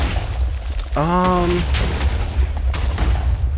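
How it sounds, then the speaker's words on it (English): Minecraft TNT blasts in the Enigmatica 6 modpack go off as a series of crackling, muffled booms over a low rumble, with a brief tonal in-game sound and a voice speaking briefly. "Is that just regular TNT or like explosion?"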